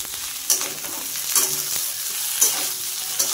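Taro pieces stirred and sautéed in a hot pan, a steady close sizzle of frying broken by periodic scrapes and clanks of the spoon against the pan, with no talking.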